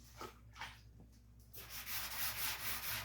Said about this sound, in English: It's sanding.